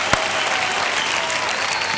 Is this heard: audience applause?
yes